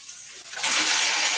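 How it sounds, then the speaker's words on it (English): Water from a tap surges on after the supply comes back, starting as a soft trickle then rising to a steady loud rushing hiss, with no voices. "there was no water, guys, and it just came back. Let me turn the pipe off."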